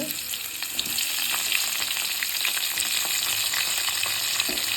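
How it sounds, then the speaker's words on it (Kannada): Cashews with ginger, garlic and spices fry in hot oil for a carrot biryani, giving a steady close sizzle with scattered crackles and pops and occasional stirring scrapes. "ಈಗ ಎಣ್ಣೆ ಬಿಸಿಯಾಗಿದೆ ಅದಕ್ಕೆ ಗೋಡಂಬಿ ಹಾಕೋಣ"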